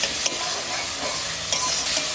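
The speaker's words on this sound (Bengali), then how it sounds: "মশলাটাকে একটু ভালো করে কষতে হবে" Spice masala for an egg curry sizzles steadily in a hot pan while a spoon stirs and scrapes through it, close and continuous with no talking.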